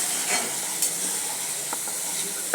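Potatoes and chicken sizzle and fry in a pan while being stirred, a steady hissing crackle with a few faint scraping knocks, close by and without talk.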